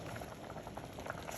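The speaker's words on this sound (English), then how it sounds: "once we bring this back to a boil, then we're finished" Shrimp in lobster sauce boils in a pot, a continuous close bubbling and popping with no pauses, fairly quiet and steady throughout.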